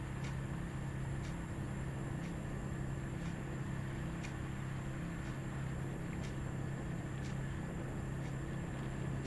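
A car drives over gravel and potholes, giving a steady low rumble of road and engine noise with faint, evenly spaced ticks running throughout.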